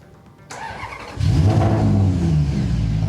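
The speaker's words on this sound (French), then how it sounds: "Le V8 italien. Un petit V8 italien" A small Italian V8 in a Maserati sports car revs hard with its original exhaust and the exhaust valve open, a sharp blip at the half-second mark swelling into a loud, sustained, close-up roar.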